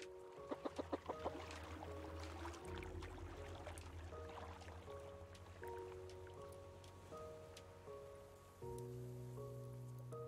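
A chicken clucks in the video game Raft, a quick run of short clucks at the start, then fainter clucking under steady rain pattering on surfaces and a low droning tone.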